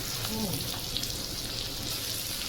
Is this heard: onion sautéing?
yes